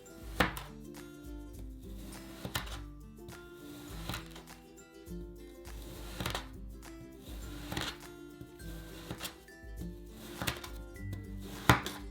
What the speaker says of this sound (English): Now I'm going to use this slicing tool to make satisfying cuts.